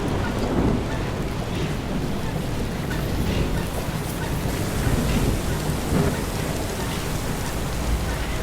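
Heavy rain pours steadily in a stormy scene from the game Far: Changing Tides, with rolling thunder rumbling through it and a few louder cracks mid-storm, dense and close throughout.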